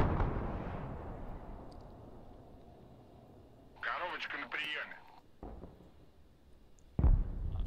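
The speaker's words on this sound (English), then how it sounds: "I'm gonna bomb a supply point, try and hit that tank." Bombs exploding on a supply point in the Broken Arrow war game: a fading rumble, then a few loud booming blasts near the middle and a sharp final impact, with a voice talking over the game sound.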